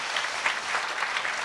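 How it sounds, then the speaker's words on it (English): Brief, even applause from a Korean church congregation at a New Year service, a dense moderate clatter of many hands with no breaks. "Let's give a round of applause to God"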